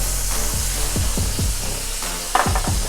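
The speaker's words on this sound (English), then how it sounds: "I'm going to go ahead and add the rest of our Rotel" Canned Rotel tomatoes stirred into sausage sizzling in a pan for game-day queso dip, with a steady loud fry hiss and repeated scraping spoon strokes, a louder splash of addition near the end.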